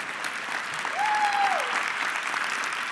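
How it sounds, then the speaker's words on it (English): A large keynote audience at Microsoft Ignite 2023 breaks into sustained applause, a thick, steady wash of clapping with a single whistle rising briefly in the middle. "Yeah, you can clap for that."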